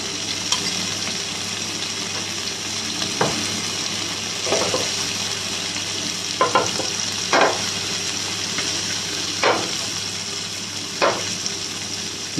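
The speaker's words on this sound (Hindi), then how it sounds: "मीडियम हाई फ्लेम पे कुक हो रही है चाप" Soya chaap frying in Amul butter in a pan over a medium-high flame, a steady loud sizzle with occasional clinks and scraping stirs, no talking.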